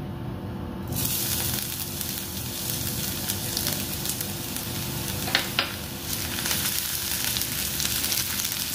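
Garlic sizzling in hot oil in a pan while a paneer-corn frankie filling is started, a steady loud frying hiss that runs throughout with a few brief stirring scrapes.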